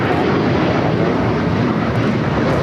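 A JetBlue airliner takes off from runway 25 right at LAX, its engines making a loud, steady, broadband roar throughout. A voice speaks briefly under the noise.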